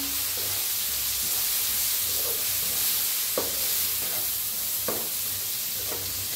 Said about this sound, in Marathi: छान असे मसाले भाजून घेऊया तेलात